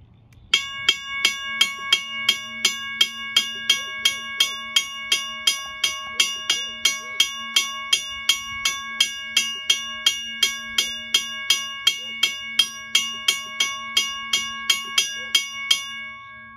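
A Westinghouse mechanical railroad crossing gong bell strikes in a fast, steady rhythm, each ring bright and metallic with lingering overtones, loud and close with nothing else over it.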